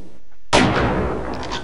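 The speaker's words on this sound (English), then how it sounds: "Make sure to take your time and line up those shots" A single loud sniper rifle shot fires at moving targets in the video game Half-Life: Opposing Force, a sharp blast after a brief quiet, followed by a decaying boom and rumble.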